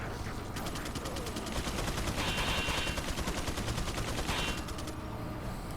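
Rapid, continuous enemy machine-gun fire from Resident Evil 4 hammers on for the whole stretch, with dense back-to-back bursts at steady volume and no pauses.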